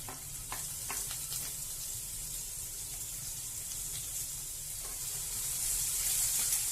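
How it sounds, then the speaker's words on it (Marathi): Spring onion sautéing in oil with cumin, garlic cloves and a pinch of asafoetida gives a steady, close sizzle and crackle that swells slightly toward the end, with no voices. "कांदा चांगला परतून घेऊया"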